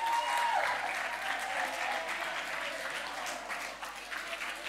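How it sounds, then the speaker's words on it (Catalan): Steady, dense audience applause fills a conference hall at the Catosfera 2023 opening as people who reached the podium are cheered, loud and sustained throughout with no break. "un aplaudiment per les boomers que han pujat al pòdium."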